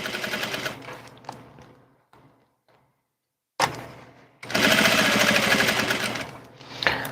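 A sewing machine stitches fabric for a Vogue 1870 garment in two loud bursts, the first tapering off into near silence before a brief restart and then a sustained run of steady, rapid stitching.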